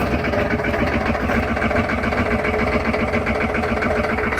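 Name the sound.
1996 6.5 engine idling after cold start, rattling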